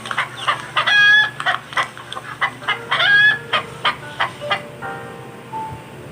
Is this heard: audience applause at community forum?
no